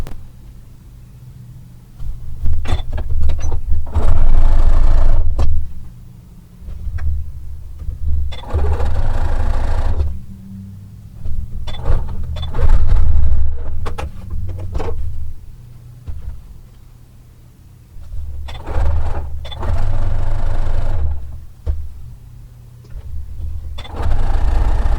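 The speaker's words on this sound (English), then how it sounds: "sew each of these 3 squares together into 3 separate rows, and then we'll sew the 3 rows together to complete the star" A sewing machine stitches quilt squares into rows, its low motor hum rising in repeated bursts of a few seconds each, separated by quieter pauses.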